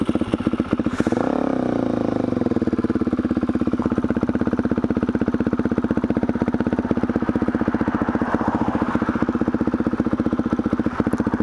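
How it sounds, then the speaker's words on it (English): A motorcycle engine runs loudly and steadily close by while the bike is turned around, with a rapid, even mechanical thrum after a brief rise in revs near the start. "I probably should turn the bike around."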